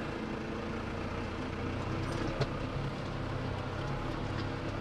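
A tractor towing a pair of empty rapeseed trailers with chains in place pulls away, a faint steady engine drone with low rumbling from a distance and no talk.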